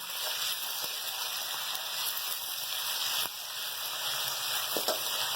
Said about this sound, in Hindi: इन चीज़ों को फ्राई कर लेंगे अच्छे तरीके से।